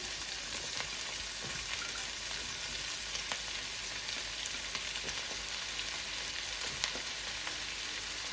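Green pepper stir-fries in a hot wok for a Cantonese-style dish, a continuous dense sizzle with scattered crackles and light stirring taps, close and without talk.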